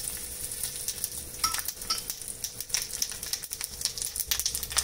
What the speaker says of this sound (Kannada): ಸಾಸಿವೆ ಚಟಪಟ ಅಂತ ಇದೆ